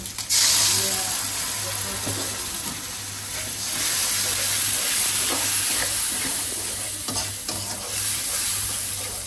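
Cumin-spiced meat masala sautéing in a pan with added water gives a steady, close sizzling hiss with bubbling steam and occasional stirring scrapes throughout.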